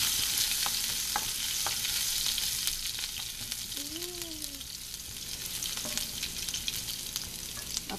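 Ginger and green chili sizzle in hot oil with cumin seeds, a loud continuous fry punctuated by the scrape of a stirring spoon, with no talking.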